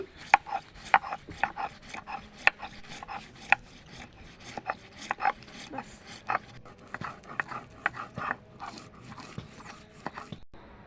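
Mustard seeds ground into paste on a stone by hand, a series of rhythmic rasping scrapes and rubbing strokes with irregular gaps, near and fairly quiet, with a voice heard at times.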